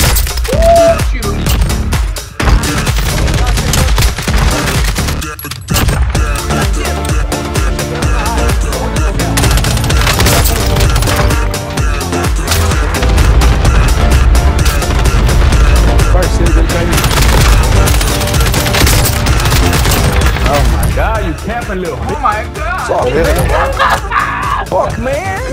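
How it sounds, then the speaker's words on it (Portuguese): Bursts of gunfire fill a Call of Duty Warzone match in Verdansk, with near-continuous shots and fusillades running loud throughout while players talk over the action. "Tiro"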